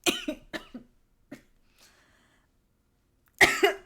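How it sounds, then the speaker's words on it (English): A person coughs in several sharp bursts at the start, then goes quiet before a louder, harsher cough near the end, close to the microphone. "Sorry, I'm still coughing."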